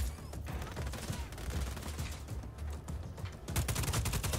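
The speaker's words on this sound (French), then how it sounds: "J'ai cru que je m'étais buté moi avec toutes ces explosions" Rapid gunfire and blasts in the open-world shooter game Just Cause 4, dense bursts of shots with booming low rumble, intensifying into a sharper volley near the end, loud and close.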